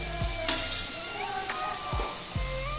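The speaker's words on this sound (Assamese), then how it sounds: "এতিয়া পিঁয়াজখিনি ভাজি আছোঁ" Onions fry in a pan at home with a steady, close sizzle, punctuated by a few sharp stirring scrapes of a spatula, and nobody speaking.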